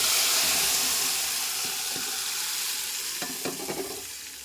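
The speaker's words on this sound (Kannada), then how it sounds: "ಈಗೇನು ಮಾಡೋಣ, ನಮ್ಮ ಪಪ್ಪು ಇದರಲ್ಲಿ ಹಾಕ್ತೀವಿ." Dal tipped into a hot pan of fried ingredients, a loud hissing sizzle that slowly fades while a few stirring scrapes and clinks sound close by.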